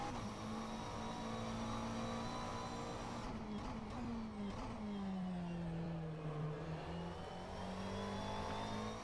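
McLaren 720S GT3 race car in rFactor 2 practicing at Sebring, engine droning steadily throughout, with pitch sweeping through gear changes and a dip and climb under acceleration midway.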